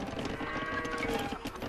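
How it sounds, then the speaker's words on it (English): Livestock bleats from the video game Age of Empires II DE, a sheep sound heard close and fairly quiet, layered over steady game ambience with no talking. "I heard a sound like I just got a sheep somewhere."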